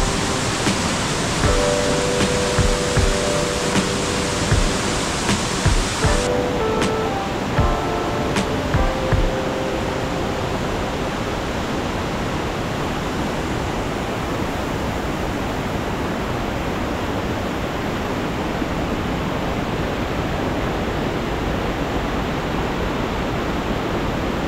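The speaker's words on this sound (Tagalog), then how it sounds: "may falls tayo nakikita dito" Ditumabo Mother Falls in San Luis, Aurora pours as a dense, continuous roar of rushing water, loud and unbroken, with a few faint knocks early on.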